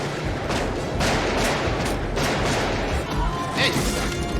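Dense bursts of gunfire from the animated Batman: Mask of the Phantasm, loud repeated cracks and crashes filling the whole moment with no pauses, a short bright ring near the end.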